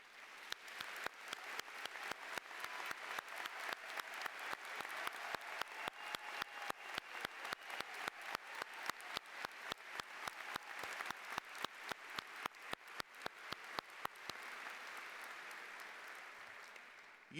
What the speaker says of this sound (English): let's applaud their courage and their sacrifice for our country.